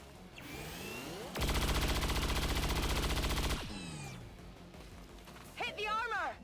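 A sustained burst of rapid automatic gunfire from XCOM with the Long War mod rings out loud and steady for about two seconds, with quieter shots and mechanical whines before and after.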